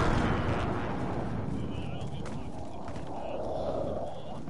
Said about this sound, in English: somebody precision airstrike them.